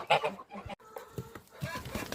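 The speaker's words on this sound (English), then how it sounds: "So the next one are geese" Geese on a small farm give loud honking and clucking calls at close range, several birds overlapping in short, irregular bursts.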